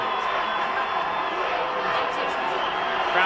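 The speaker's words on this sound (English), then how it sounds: "Crowd's pumped up." Crowd noise at a high school football Super Bowl game, a broad continuous roar of spectators cheering in the stands, steady throughout with a slight swell at the end.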